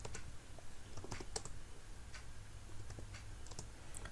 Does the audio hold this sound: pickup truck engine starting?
no